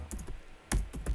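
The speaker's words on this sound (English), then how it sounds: "Let me quickly finish typing this." Quick bursts of keystrokes on a computer keyboard, a short run of taps, a brief pause, then a few sharper clicks, close and fairly quiet.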